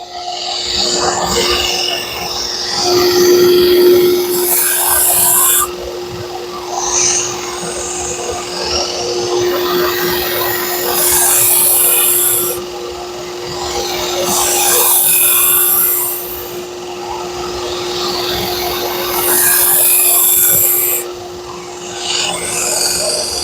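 A Hatsukokuro Kurogane bunka knife blade is ground on a machine, a continuous rasping, abrasive hiss with a steady motor hum beneath, swelling and easing in repeated passes over the blade.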